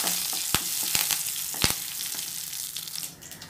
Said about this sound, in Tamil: ரெண்டே ரெண்டு காஞ்ச மிளகாய் இது போட்டு நல்லா வதக்கிக்கோங்க